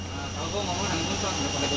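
Inside an Air Asia airplane cabin, a steady jet engine drone fills the air with a constant low roar and faint tonal hum, unbroken throughout.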